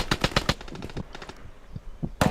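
AK-308 rifle in the Roblox game Deadline, rapid bursts of automatic gunfire, a fast string of sharp shots, a short pause, then scattered single shots and a final loud burst, close and loud.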